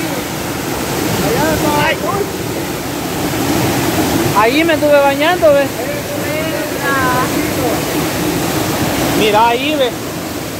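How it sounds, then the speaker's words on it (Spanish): A swollen river in El Salvador rushing in a loud, continuous broadband roar, close and unbroken, with someone talking over it in short bursts. "hoy le mostramos cuando va crecido"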